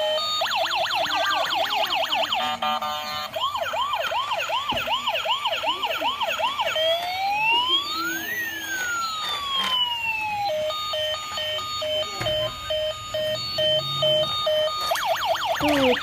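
An ambulance siren blares loud and close for the whole stretch, shifting through fast yelping warbles, long swooping wails and a steady two-tone pattern, with no voices over it.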